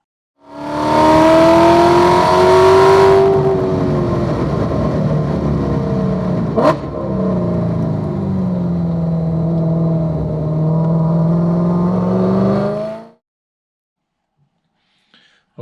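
A car engine roars loudly, its pitch climbing through the gears as it accelerates hard at wide open throttle out of a corner at M1 Concourse race track, then fades away into quiet.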